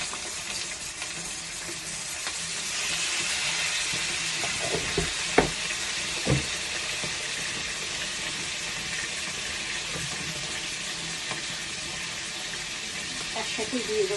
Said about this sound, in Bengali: তেল ছিটেছে ভীষণ, ঢেকে ঢেকে ভাজতে হবে।